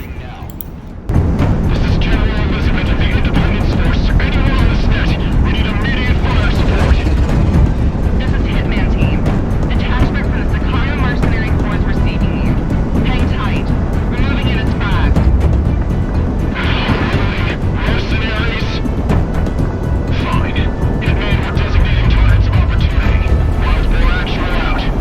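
A roaring jet engine drones without a break from an unreleased aircraft in the video game Project Wingman, loud and close, with swelling rumbles and booming bursts of combat mixed into the steady wash.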